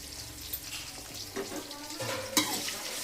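Crushed garlic and curry leaves fry in hot oil for tomato chutney, giving a steady low sizzle with a few scraping stirs and one sharp clink near the end.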